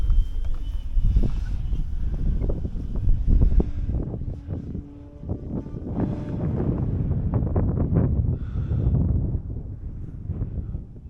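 Wind buffeting the microphone outdoors during a windy-day flight of a Turbo Timber RC plane, steady roaring gusts with brief sharp clicks and rattles close to the mic, no talk.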